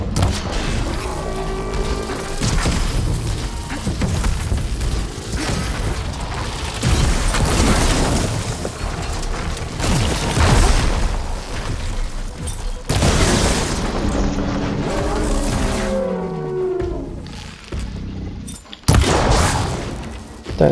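Tremortusk salvo cannons firing in the video game Horizon Forbidden West, with repeated heavy booms and gunfire over a mechanical din, dense and loud across the whole stretch, plus whooshing and sweeping tones.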